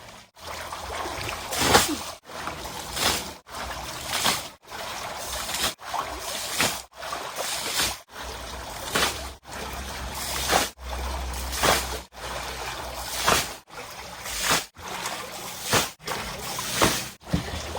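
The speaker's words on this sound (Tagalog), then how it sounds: "Bawasan na natin yung tubig para madaling mahuli yung mga isda." Water draining out of a backyard fishpond, a steady trickling and sloshing flow that carries on throughout, interrupted by brief regular gaps.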